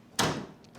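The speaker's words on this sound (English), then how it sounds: "I just opened this door, and that's" A wooden door in a historic house swings open with one short, close creak-and-thud, followed by a brief quiet stretch and a second sharp knock at the end.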